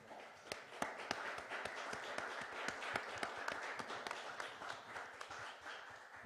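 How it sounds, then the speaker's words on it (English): Modest applause at a conference closing for the panelists, a thin crowd with distinct individual claps standing out sharply above a softer background of clapping, fairly quiet overall. "I would kindly ask you to give a big applause to all the panelists"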